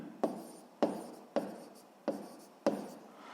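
Notes are written by hand during a physics lesson, five distinct scratchy strokes landing at a steady, unhurried pace, each with a quick attack and short fade, faint and close.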